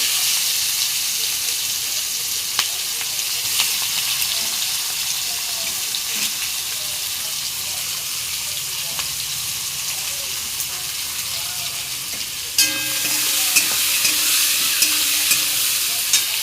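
Onions frying in hot oil left over from frying potatoes for a meat curry, a steady sizzle with stirring scrapes throughout, swelling louder and brighter near the end as the onions hit the oil.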